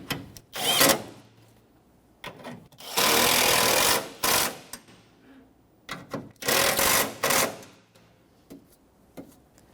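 A 10mm socket tightening bolts on the AC condenser of a 2005-2021 Nissan Frontier: close bursts of ratcheting and metallic turning, a few short and two longer runs, separated by pauses with faint handling noises.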